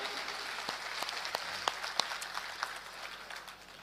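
Applause rises from the crowd at an All India Mushaira poetry gathering in Aurangabad, a fairly faint, distant patter of clapping with scattered louder individual claps, continuing evenly for about four seconds before thinning slightly.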